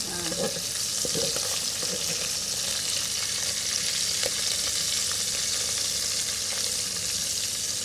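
Fish frying in hot oil in a home kitchen, a steady dense sizzle running unbroken and fairly loud throughout, with faint clinks of stirring now and then.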